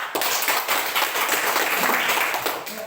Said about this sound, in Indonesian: Oke, gue tepuk tangan dulu.